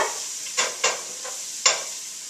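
Mirepoix vegetables sizzle in olive oil, a steady bright frying hiss with four or five sharper bursts as the pieces are stirred and turned in the pan.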